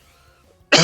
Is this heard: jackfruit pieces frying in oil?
no